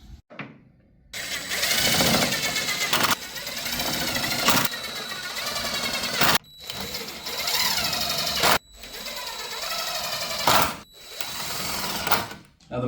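A power drill drives screws to attach the back runner of a sewing workstation, whirring loudly in several long bursts with short pauses between them.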